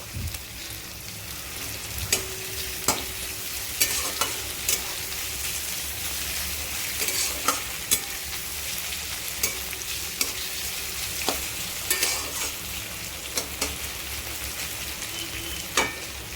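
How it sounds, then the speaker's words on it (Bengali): Onions and slit green chillies fry in a pan for a prawn chutney, a continuous close sizzle broken by repeated sharp clicks and scrapes of a spoon stirring against the metal. "এটাকে ভালো করে ভেজে নেব"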